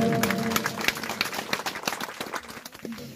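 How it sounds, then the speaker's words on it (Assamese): An audience at a home celebration claps, a scattered burst of close handclaps that gradually thins and fades over a few seconds, with no speech over it. "সকলোৱে এবাৰ জোৰকে হাত চাপৰি বজাব লাগিব।"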